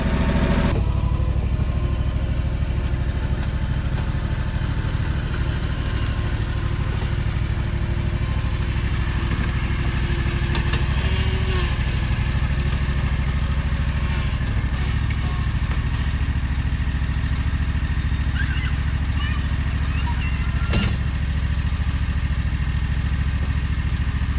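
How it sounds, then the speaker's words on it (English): A riding lawn mower engine idles nearby in a yard, a steady low rumble with light mechanical clatter that holds constant throughout. "Once I'm done, I'll back the mower up, go back over to my mulch spot, and reload it."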